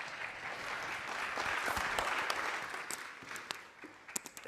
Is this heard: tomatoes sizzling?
no